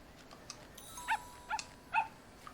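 Small dog in the wildlife adventure game Alba yapping in a few short, light barks spaced about half a second apart, moderately close over quiet ambient background.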